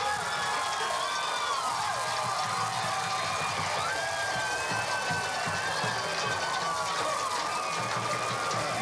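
A high school football crowd roars and cheers steadily after a deflected catch in a Marion at Chilhowie game, with whoops and shouts rising over a dense continuous din.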